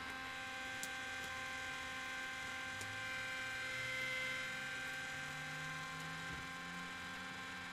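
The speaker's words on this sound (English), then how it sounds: "You just have to wait for the valve to spin here another second." Motor of a 5900 backwash filter control valve turning as the valve cycles toward service position; a faint, steady electric hum with a slowly rising low whir, continuous and close, with no talking.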